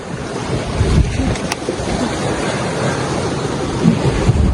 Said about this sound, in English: Yeah, the massive waves,